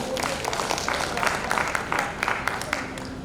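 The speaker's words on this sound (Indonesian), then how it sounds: "kasih tepuk tangan ya buat mereka berdua" Applause from a senior congregation at a GBI church service, steady crowd clapping filling the whole moment at moderate distance.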